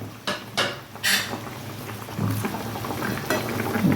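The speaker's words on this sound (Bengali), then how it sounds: "তো ঝোলটা ফুটে গেছে" Fish curry broth bubbles at a steady simmer in a cooking pot, a soft continuous seething with a few sharper clinks and pops of utensils against the pot near the start.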